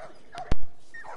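A single sharp, loud dog bark in The Last of Us, close by and alone, with faint background ambience before and after.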